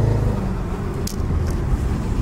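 An Audi RS7 fitted with an Armytrix exhaust drives along with a loud, steady, low engine and exhaust rumble, heard from inside the car, with a couple of faint clicks and no talking.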